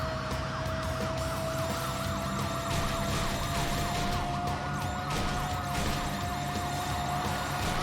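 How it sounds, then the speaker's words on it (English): Thin, buzzy engine whine from cars in a PlayStation 2 racing game, rising and falling in a steady wavering pattern, loud and continuous across the whole stretch with dense game noise underneath and no talk. "I'm enjoying how the cars sound more like"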